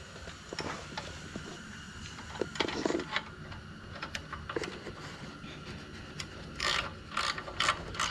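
A ratchet wrench on a half-inch bolt clicks in short repeated bursts as bolts are snugged down on a MANCO minibike engine, close and fairly quiet, with brief pauses between runs of pawl clicks.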